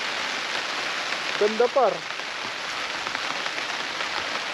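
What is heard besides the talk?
rain pouring on campsite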